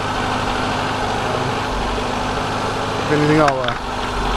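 A Honda D15B7 engine idles with a steady, slightly uneven misfiring rumble, close and loud, while a person speaks briefly over it.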